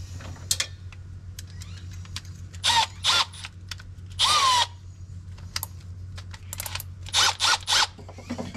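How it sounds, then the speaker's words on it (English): Several short bursts of a power drill whirring, separated by pauses and small mechanical clicks and handling noises, close by. "Now I'm going to drill a bigger hole, and a bigger hole, and a bigger hole."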